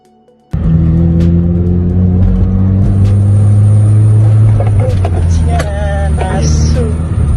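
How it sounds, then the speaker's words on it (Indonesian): A speeding truck taking a curve roars loudly, then its brakes give a shrill, wavering screech in the final seconds just before it rolls over onto the road. "dalam rekaman terdengar suara rem yang kencang"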